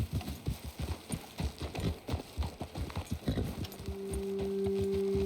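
Horses' hooves clip-clop in a quick, steady rhythm while riding in Red Dead Redemption 2, close and clear, then ease off as a sustained low tone swells in near the end.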